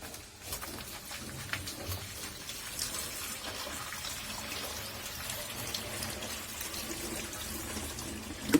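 Water being poured, a steady low splashing flow running throughout at a moderate, even level, with faint background sounds.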